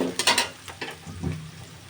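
Chopped onion hits a hot pan for a traditional Barisal-style shol fish bhuna and sizzles, with a few stirring scrapes, close up in a short burst with no voices.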